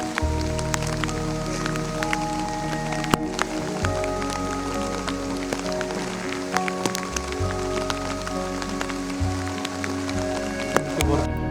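Steady rain patters on surfaces during a forest safari in Gir, with lions nearby, a constant hiss under a running vehicle's low hum and occasional talk.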